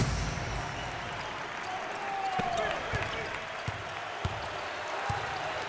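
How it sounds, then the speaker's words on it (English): Basketball crowd at an NIT Round of 32 game between UC Irvine and Utah keeps up steady applause and cheering, with scattered sharp claps and thumps, all under broadcast commentary. "Well, listen to those fans. The crowd is thunderous."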